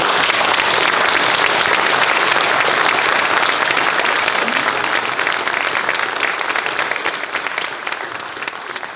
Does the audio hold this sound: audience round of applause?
yes